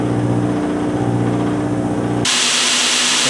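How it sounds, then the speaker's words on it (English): A steady motor hum gives way abruptly to loud, rough grinding as a belt sander takes down salvaged aluminum tent pole splices. "from this stage I can take them down on the belt sander pretty quick"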